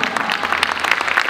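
Audience applause at a charity evening concert, a dense burst of steady clapping from a crowd, loud and close, with no talk over it.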